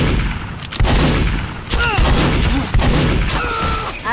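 Sentry turret gunfire in the video game Team Fortress 2 during a capture-the-flag match, loud rapid bursts with booming hits and whirring game effects between them.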